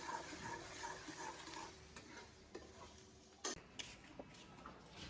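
Home kitchen cooking with pots and dishes clattering, faint stirring and scraping with a sharper clank partway through, quiet and close with no talking.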